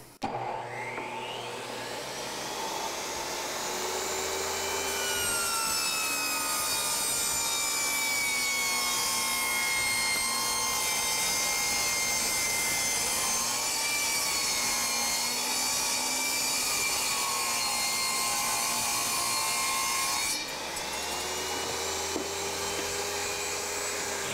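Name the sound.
chop saw cutting engineered hardwood flooring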